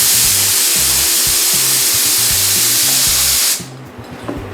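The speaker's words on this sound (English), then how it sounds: "all you really do is hold the gun upside down and spray until you start to get paint out" A loud, steady hiss of a paint spray gun held upside down, with a rhythmic compressor chug underneath, cutting off abruptly near the end into quiet.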